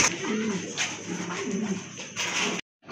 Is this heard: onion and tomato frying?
no